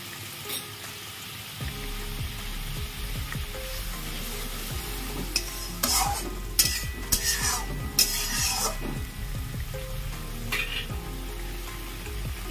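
Fish curry with poppy seed paste bubbles and simmers in a pan, a close, continuous wet sizzle broken by several louder bursts of scraping and stirring.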